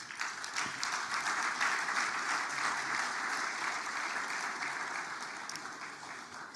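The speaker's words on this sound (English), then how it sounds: "All these VIPs I have mentioned, we need to give them a very loud round of applause." Sustained audience applause for dignitaries at a West African investment forum, a broad even wash of many hands clapping that holds steady for several seconds, somewhat distant and hall-like.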